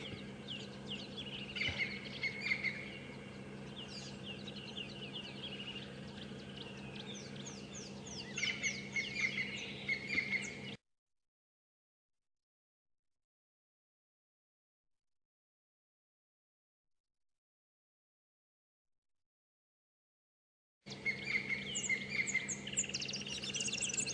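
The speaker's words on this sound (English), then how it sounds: "We can also hear some of the same bird calling behind us. So this is a crested Franklin." A crested francolin calls during a morning safari drive at Djuma and Arathusa, giving repeated harsh, rattling bursts over a steady low vehicle rumble, with a silent gap between two stretches of calling.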